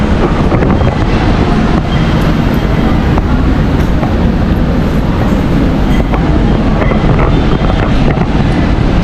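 A light rail train at an LRT station in Pasay rumbles loudly and continuously nearby, its steady roar mixed with rattling and wind noise.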